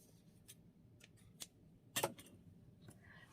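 Scissors snip through a length of thread, a few faint crisp clicks with one louder cut near the middle, close and quiet with no talk.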